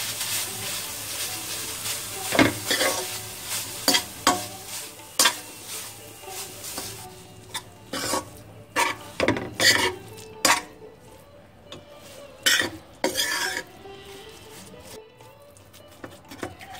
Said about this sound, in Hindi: कढ़ाई में 1 चम्मच घी डालेंगे, गैस को कम कर लेंगे, खोआ डालेंगे, इसको हल्का सा भूनेंगे।